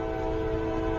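A CSX local freight train passes nearby, giving a steady, dense rumble with a sustained engine drone throughout the short stretch, with no voices.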